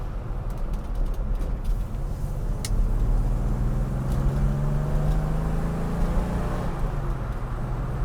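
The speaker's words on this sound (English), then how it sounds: "It's an old overhead valve V6, and with all that displacement" A deep, throaty overhead-valve V6 in a 1972 Ford Capri 3000 GT XL rumbles steadily at idle and low revs, with a rising then falling drone, loud and close, no voices.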